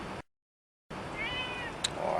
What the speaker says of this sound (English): Not another random kitty.